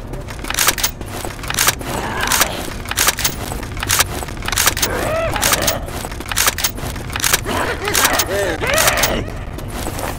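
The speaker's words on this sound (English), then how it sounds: "I'm reloading." Weapon reloading in the zombie shooter Left 4 Dead 2, with metallic clicks and clacks buried in a loud, dense mix of game noise and ongoing talk.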